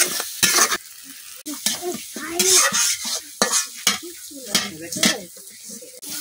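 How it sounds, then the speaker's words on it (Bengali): Eggs frying with onion and chili in a pan: a loud, close sizzle broken by repeated scraping and clinking of a utensil against the pan, with rhythmic stirring bursts. "এখন ডিমটা পেঁয়াজ মরিচের সাথে ভালোভাবে ভাজিয়ে নিলাম।"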